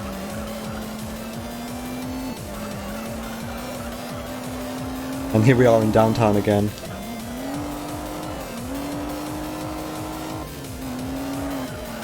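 Mitsubishi 3000 GT all-wheel drive car in the racing video game Juiced, engine droning steadily with gear changes and a brief loud tire squeal midway, while someone talks over it.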